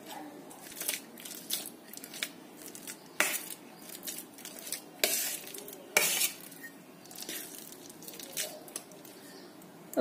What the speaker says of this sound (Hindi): इसे आप मैसर से या पलटे से ही इस तरह से इसको मिला देंगे